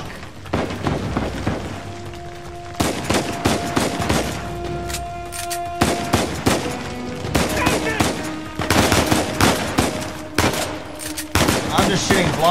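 Video game gunfire in rapid automatic bursts and single shots, loud and dense across the whole stretch, with players shouting over it.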